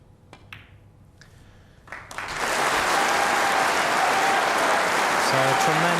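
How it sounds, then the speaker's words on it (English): Audience applause erupts at the 1992 snooker World Championship final between Hendry and White, building from a few scattered claps into a sustained, dense ovation that fills the hall and holds steady to the end. "So tremendous applause there,"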